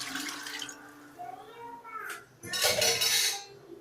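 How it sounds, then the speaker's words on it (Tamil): Water is poured into a pot of Tamil fish curry (meen kulambu) in a home kitchen, a short splashing gush following brief kitchen clatter, with a voice speaking nearby. "தண்ணி ஊற்றிக்கணும்"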